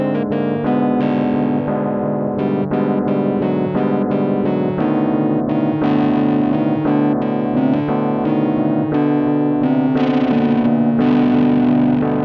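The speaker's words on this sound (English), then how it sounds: "The second repetition of this section has a noisy guitar solo thrown on top." Noisy, distorted electric guitar solo layered over the repeating section of a song, with effects-heavy tone, steady loud chords beneath and choppy bursts of lead notes throughout.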